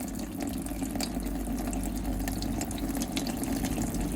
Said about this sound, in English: Come over to the tap here and just pull the water through